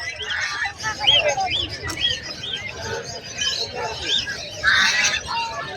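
Birds calling outdoors, a busy mix of short chirps and tweets from several birds, moderately close, with voices and background activity underneath.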